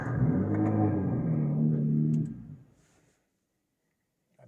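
Nissan GT-R tuned to nearly 600 kW idles with a deep, close, rumbling growl for about two seconds, then winds down and cuts off into silence.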